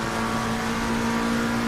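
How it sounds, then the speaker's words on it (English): GT3 race car engine recorded onboard at Imola, a loud, steady high-revving drone with a strong sustained tone throughout, no voices. "And so, only engine sound."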